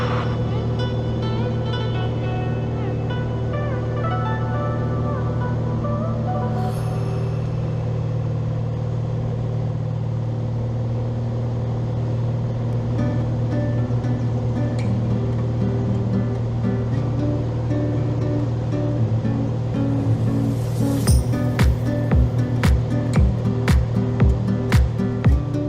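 A Cessna Skyline light aircraft's engine drones steadily in flight just after departing runway 34. The sustained, even tone fills the cabin, with a few sharp clicks near the end.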